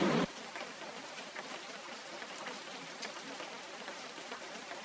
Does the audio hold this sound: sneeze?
no